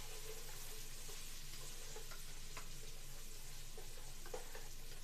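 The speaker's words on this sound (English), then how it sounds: "I'm just going to let those onions get nice and mixed up in there and start cooking down for us" Onions frying and sizzling in grease inside a pot of beans, a steady dense crackle with occasional stirring clicks, close and continuous with no talking.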